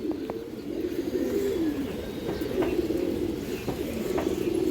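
Domestic pigeons, including a breed called Dragon, coo in a loft: low, repeated throaty coos rise and fall continuously, with a few faint chirps on top.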